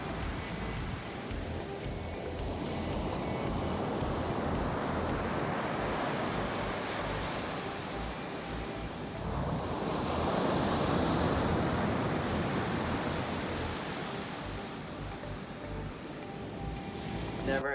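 Ocean surf rolls onto an empty beach along the American coast in summer, a steady roar of breaking waves with wind, swelling louder midway as a bigger set crashes in, with no voices.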